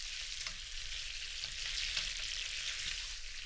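Pork ribs, corn on the cob and mini peppers sizzle steadily in a pan over medium heat with soy sauce, a dense continuous frying hiss with soft stirring scrapes mixed in.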